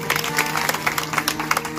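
Gathered audience at a memorial kirtan gives a guest a welcoming round of applause, brisk uneven clapping at fairly close range over a low steady hum, no voices heard.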